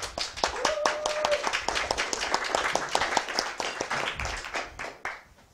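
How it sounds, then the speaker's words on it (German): Audience applause at a conference opening: distinct, crisp claps from a fairly small crowd that build into a steady patter, then thin out and stop, with a faint voice underneath. "darf man auch kurz einen Applaus"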